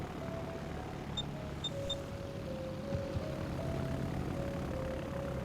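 Attack aircraft drone overhead in a naval combat video game, a faint steady engine hum with slowly shifting pitch held throughout, plus a few brief high beeps.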